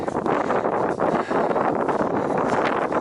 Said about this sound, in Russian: Сейчас есть ветер.